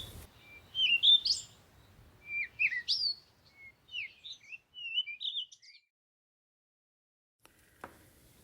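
A Malabar starling calls near a tiger in Nagarhole Tiger Reserve at Kabini, Karnataka, giving a series of close, clear chirps and squeaky whistled notes in irregular bursts, followed by quiet.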